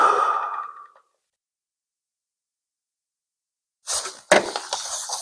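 A deep exhale during a psoas stretch, a soft, breathy sigh that fades out after about a second, followed by silence and then a few short, sharp breathy sounds.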